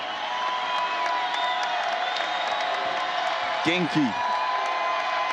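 Crowd noise fills the arena at a Creighton women's basketball game against Green Bay, a steady cheering wash running beneath a commentator's talk.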